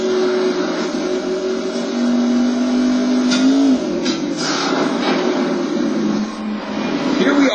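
Motorbike engines in MX vs ATV Untamed during a Supermoto race at Split Oak drone and rise in pitch continuously, loud and close, with a person talking over them throughout.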